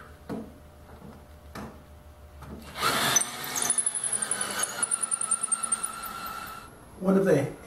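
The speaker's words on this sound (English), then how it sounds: "repeat drilling and installing bolts for the rear stand on each side." A power drill whirs in a short burst while drilling bolt holes for a miter saw stand, then pulses in a rapid, rhythmic series before stopping, with scattered knocks and brief handling noises around it.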